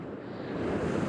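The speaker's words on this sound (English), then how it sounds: "We've got some beautiful waves breaking over the rocks in the distance." Sea waves break over rocks in a small bay on the Irish Sea coast, a steady wash of surf and wind noise building gently louder.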